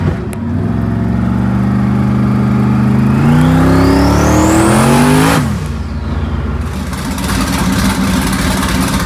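A Mitsubishi 3000GT twin-turbo race car engine idles loudly, then revs up in a rising whine before dropping back to a rough, steady idle.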